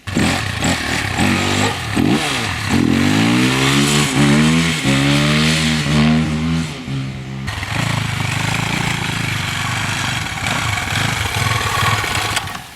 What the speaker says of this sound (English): there's only one way to seat piston rings in the engine, right? Run the engine.